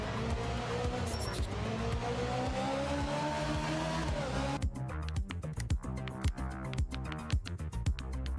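A damaged race car engine in a racing video game drones loudly with rising pitch, then a rougher, choppier engine note with rhythmic pulses takes over midway, close and continuous with no talking.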